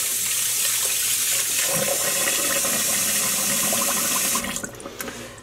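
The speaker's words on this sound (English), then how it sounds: "I'm gonna add more water" Water pours steadily into a dye pot, a loud close rushing splash that runs evenly for several seconds before tapering off and cutting to softer trickling.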